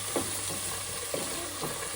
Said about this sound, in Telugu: అన్నీ వేసేసి కలుపుతున్నాను చూడండి